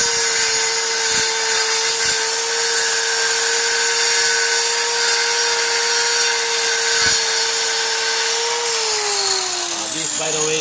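A Kawasaki 1185G circular saw runs at a steady, loud high-pitched whine while cutting 1x6 mahogany, holding constant for most of the stretch before the pitch sags near the end as the blade winds down.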